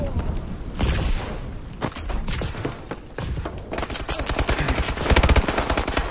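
Rapid burst-fire gunshots from a weak five-round burst rifle in Call of Duty: Advanced Warfare gun game, loud repeated cracks in quick volleys with booms mixed in across the whole stretch.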